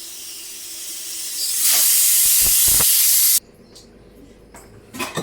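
A pressure cooker with brinjal pulao inside lets off a loud, close hiss of steam that swells over a few seconds and then stops abruptly, followed by quiet kitchen noises.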